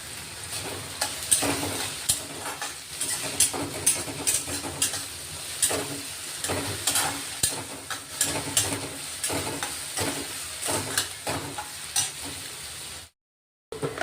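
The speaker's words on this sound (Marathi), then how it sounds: "थोडा कट केलेला लसूण टाकलाय, तोही आपण आता मस्त परतून घेतोय" Chopped garlic sautés in a hot pan, sizzling steadily up close while a utensil stirs and scrapes it at intervals, then a brief silent break near the end.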